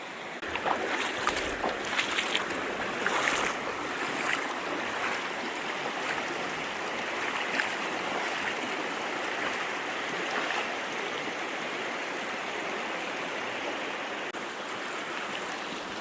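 Someone wades knee-deep through a low river in Zion National Park, water swishing and splashing close by with irregular louder surges over a continuous rushing flow and no speech.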